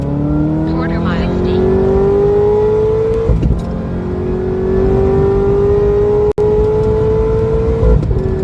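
A 2009 Corvette ZR1's engine roars under wide-open throttle in a 60-130 mph run, pitch climbing steadily through the gears with brief shift breaks, loud and close.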